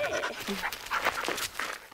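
A gendarmerie detection dog panting close by, quick rhythmic breaths over about two seconds with a faint whine, no talk heard.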